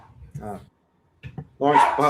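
A dog barks several times nearby in short, sharp yips and woofs, with a brief gap and then a louder cluster of barks, clear and close.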